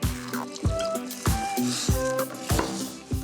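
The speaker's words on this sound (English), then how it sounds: "And a little bit of water." Water poured into a pan holding lamb, beef stock and browned bits for a lamb fricassee gives rhythmic wet, sloshing splashes with bubbly ringing tones, close and fairly loud, no talking.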